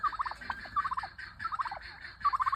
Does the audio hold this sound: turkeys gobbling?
yes